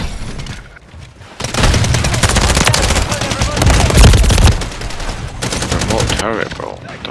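Remote turret opening up in Call of Duty MW3, a loud sustained hail of rapid automatic shots with heavy booming low end that runs almost without pause after a brief quieter lead-in.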